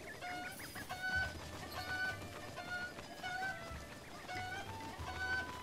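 A chicken in Breath of the Wild gives repeated short clucks and squawks, a run of high calls that come back in bursts over a low background hum, with no talking.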